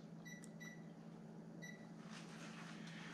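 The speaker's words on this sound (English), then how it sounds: "Now I'm gonna go over here to the microwave and my timer I'm gonna put in 5 minutes." Quiet, steady hum of a running microwave oven, with a few short keypad beeps near the start.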